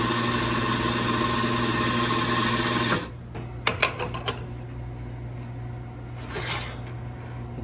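An espresso machine pulls a double shot for a honey latte: a loud, steady pump hum for about three seconds, then stops, followed by a few faint clicks and a soft hiss of coffee dripping.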